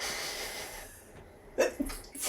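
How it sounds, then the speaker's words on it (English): A person gives a quick, sharp sneeze near the end after a stretch of quiet breathing, with a second smaller burst following, close to the microphone. "That was just upsetting spaghetti sneezes."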